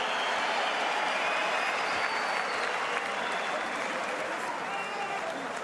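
Loud German crowd at a professional boxing rematch between Marco Huck and Firat Arslan, a dense, continuous roar of cheering and applause filling the arena with no pauses.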